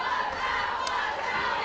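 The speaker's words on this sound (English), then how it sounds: "Crowd still into this." A football crowd roars steadily at a homecoming night varsity game between Iowa Falls-Alden and West Marshall in 2024, a dense, loud, continuous wash of cheering and shouting voices with no break.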